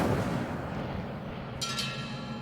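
An Incendio fire spell cast in Hogwarts Legacy bursts out as a loud, broadband whoosh over a steady rumbling game background, flaring sharply near the end of the short moment.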